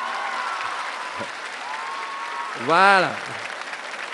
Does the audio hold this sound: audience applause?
yes